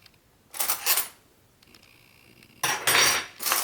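A metal spoon scraping banana chocolate chip bread batter off a spatula, heard as a few short bursts of clinking and scraping separated by quiet pauses.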